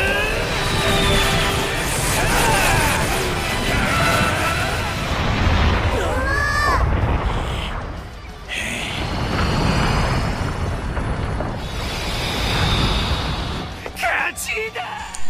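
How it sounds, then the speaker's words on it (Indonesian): Dragon Ball Super anime battle with rapid laser blasts striking an arena, a dense continuous roar of explosions, crashes and whooshing energy effects, loud and sustained, with a character's voice shouting over the din. "Basil pun juga menembakkan sebuah tembakan laser bertubi-tubi ke arah Majin Buu dari kakinya"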